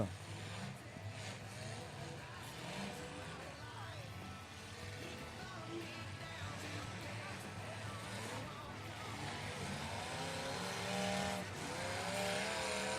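A demolition derby car at a county fair derby heat accelerates hard and spins around, its engine roar and tire noise steady and loud amid crowd and arena din, with an announcer talking over it throughout.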